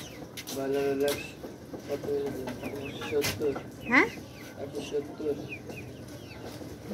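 Chickens cluck and squawk close by at a busy neighbourhood market, their short calls repeating while people talk over them.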